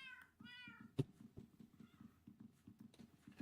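Cats in the Minecraft video game meowing several times in quick high-pitched calls over a repeating soft clip-clop pattern, with one sharp knock in between.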